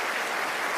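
Steady, dense applause from a church worship audience, loud and continuous throughout with no pauses.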